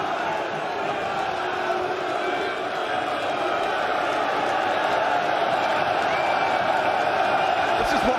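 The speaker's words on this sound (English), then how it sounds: "The crowd to suddenly get involved." Darts crowd at the World Series of Darts Finals quarter-final, a dense continuous roar of cheering and chanting from a large audience, steady and loud throughout with no gaps.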